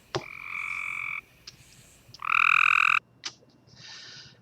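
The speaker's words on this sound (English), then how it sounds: "That's the gray tree frog." A gray tree frog gives short, loud musical trills close by, a few bursts separated by brief pauses and faint clicks, with no talking.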